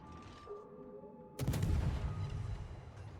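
A sudden loud naval gun salvo erupts partway through a World of Warships battle, a heavy booming burst with a rumbling tail that fades slowly after a quieter stretch of background hum.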